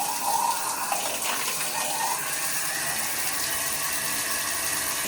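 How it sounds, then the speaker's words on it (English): A shower runs steadily, a constant close hiss of spraying water, with a few brief clicks and knocks early on and no talking. "and turn this shower on."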